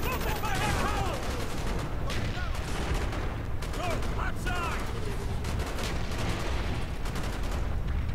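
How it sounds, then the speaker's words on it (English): Steady gunfire in Call of Duty: Black Ops, continuous chattering shots and distant bursts layered under a busy combat din, fairly faint and unbroken across the whole stretch, with people talking over it. "Who's shooting?"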